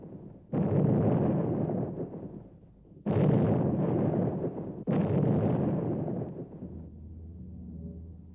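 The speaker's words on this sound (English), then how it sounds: "the coastal artillery opens an intense fire, to which the Allied Navy responds" Coastal artillery in WWII documentary footage: three heavy blasts, each a sudden boom followed by a long rolling rumble that slowly decays, the last fading into quieter low noise.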